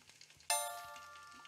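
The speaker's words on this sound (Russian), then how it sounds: "Котлетка жарится быстрее" A cutlet starts frying in the cooking video game Kitchen Fever: a sudden bright sizzle bursts in partway through and then hisses steadily, fading slightly, with a few soft clicks beforehand.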